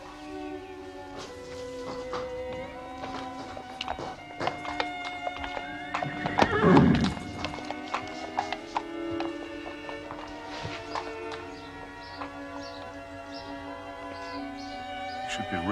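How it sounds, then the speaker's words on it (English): A racehorse neighs loudly in a single burst midway while its hooves clip-clop at a steady pace throughout, with soft music playing underneath. "I'm the only one with a horse like Shoscombe Prince."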